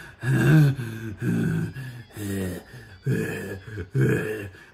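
A voice imitates the Breather from the film Student Bodies: slow, heavy, menacing breathing, several rasping, grunting breaths in and out, close and rhythmic, without words.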